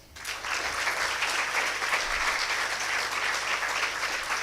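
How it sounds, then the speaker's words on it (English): Graduates in a large hall at a graduation ceremony in Mangalore break into sustained, dense applause that holds steady at full strength for several seconds, with no talking over it. "Can you clap please once?"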